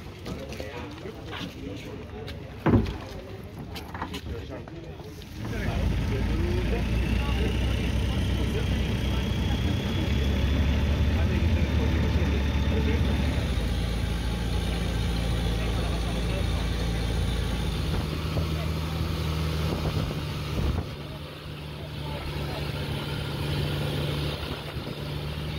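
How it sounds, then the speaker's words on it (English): Long-tail boat engine running steadily and loudly on a crowded trip past Koh Wan and Koh Ngai toward Emerald Cave off Koh Lanta, Thailand, a continuous low drone after a brief pause at the start. "Now we are going to Emerald Cave and passing by Koh Wan and Koh Ngai on our noisy long-tail boat."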